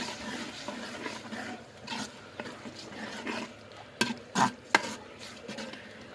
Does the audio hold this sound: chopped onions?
yes